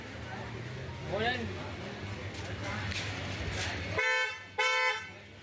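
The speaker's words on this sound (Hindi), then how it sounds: "तो पंच में ट्रम्पेट हॉर्न लग गया था" Two loud, bright blasts of a musical trumpet horn fitted to a Tata Punch car sound close by near the end, after background noise with voices talking.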